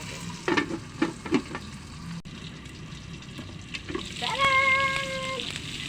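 Pork for humba fries in its own rendered fat, giving a steady sizzle broken by a few clustered pops and spatters, with a brief clear ringing tone near the end.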